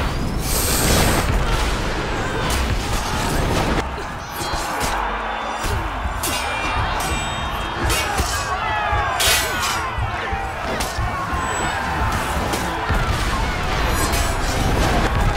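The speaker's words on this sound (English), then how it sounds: "Oh, we got exploded by the explosion via the explosive thing." Explosions and impact booms from a For Honor match, the Carousel of Ragnarok mode, dense and loud throughout with repeated blasts, clashing hits and a speaking voice mixed in.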